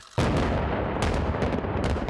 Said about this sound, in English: With several large explosions, North Korea put on quite a show.